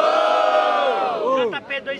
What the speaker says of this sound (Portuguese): Diferentemente, barulhos pro JP